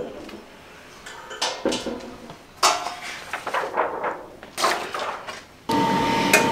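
Lid of a Phoenix DTF curing oven, set up with a DTF fume purifier, lifted open with a series of close clanks, clatters and metal knocks, finishing in a steady hum.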